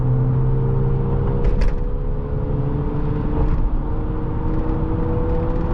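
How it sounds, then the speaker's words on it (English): A 2008-2011 Ford Crown Victoria P71 Police Interceptor driving on the road, heard from inside as a steady low engine drone and rumble with road noise, fairly loud and constant, with no talking. "The engine sounds pretty good, but it's actually not all that loud."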